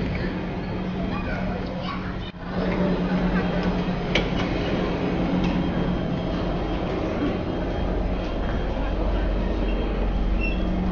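Busy MRT station in Singapore with a steady, dense murmur of crowd noise, train rumble and echoing footsteps, including a brief dip and a clunk early on, with voices talking throughout.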